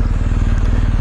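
The engine of a 2019 BMW R 1250 GS motorcycle rumbles loud and close, a deep, steady pulsing drone that holds throughout the brief moment.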